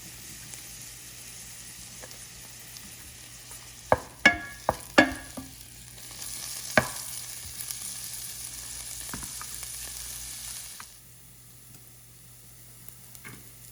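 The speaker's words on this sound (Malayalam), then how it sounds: "പാൻ ചൂടായിട്ടുണ്ട്. അതിലേക്ക് 1 ടേബിൾ സ്പൂൺ ബട്ടർ, ചെറുതായിട്ട് അരിഞ്ഞു വെച്ചിരിക്കുന്ന വെളുത്തുള്ളി ചേർക്കാം." Butter and finely chopped garlic sizzle in a hot pan, with a steady soft hiss and a few sharp clatters of a spoon stirring near the start.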